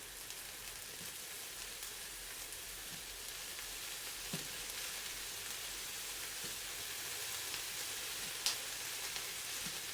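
Cauliflower goes into a stir fry and cooks with a soft, even sizzle that runs throughout, with a few faint ticks and one brief sharper click.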